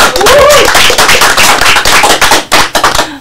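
A crowd applauds at a TNI army journalism competition event, with dense, loud clapping that sustains for a few seconds and then thins out into scattered claps near the end.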